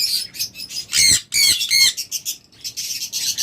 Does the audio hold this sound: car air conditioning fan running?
no